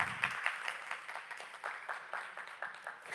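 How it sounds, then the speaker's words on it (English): Audience applauding at an investment conference, a modest scattered patter of individual claps at a slightly distant, fairly faint level for a few seconds. "Please give her a round of applause."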